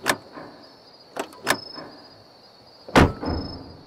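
Sharp, loud door impacts hit several times, clustered early and then one big bang about three seconds in, over a faint steady high tone, with no talking.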